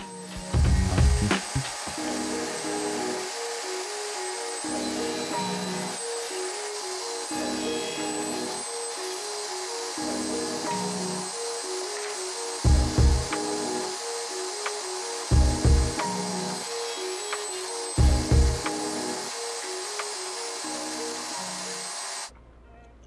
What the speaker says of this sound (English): I use my crosscut sled to ensure that one end is perfectly squared.